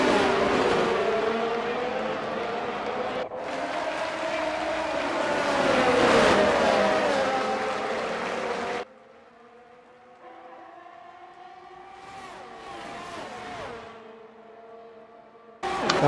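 Formula 1 race cars launching from the start of a Las Vegas Grand Prix in a racing video game, a loud massed engine roar with rising revs that cuts away to quieter, distant whining engines passing.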